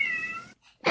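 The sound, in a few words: cat meowing in a clip of kitties attacking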